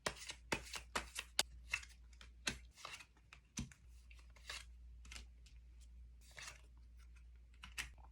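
Tarot cards being drawn and handled at a table, a quiet series of crisp shuffling clicks and taps in irregular bursts, close and isolated with no talking.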